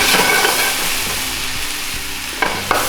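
Tomatoes sizzle loudly in a hot pan with carrots and onions for a soba lo mein, a dense frying hiss that eases slightly, then two quick stirring knocks near the end.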